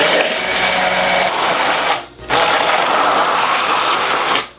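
A kitchen blender whips a homemade sauce of salt, pepper and oil for burgers, its motor roaring loud and steady, cutting out briefly near the middle and then whirring on again until a short dip at the end.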